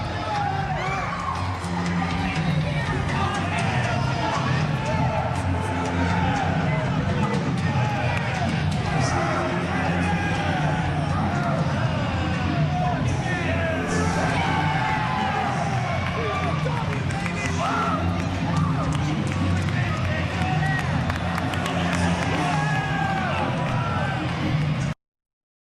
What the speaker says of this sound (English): When would you ever think that the fans here in this building would cheer as wildly as they have for the Hate Club?